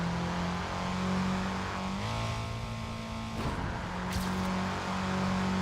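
Racing-game car engine from TrackMania 2: Valley, a steady droning rev that holds, dips in pitch briefly, then climbs again, loud and continuous throughout with no talking.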